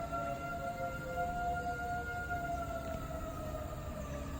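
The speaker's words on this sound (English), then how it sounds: "Let me see if that siren's going off." A tornado siren wails in the distance, a faint, steady tone that slowly drifts in pitch over a constant background rumble, with no talking.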